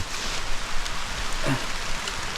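Steady rain falling outdoors near a pond while fishing for tilapia, a dense, even hiss close to the listener with no talking.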